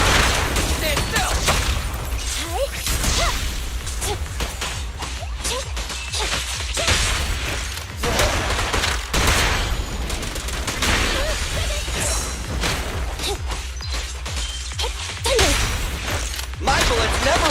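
Rapid gunfire bursts and whooshing impacts from combat in Zenless Zone Zero fill the stretch, loud and dense, with short voiced lines in the mix.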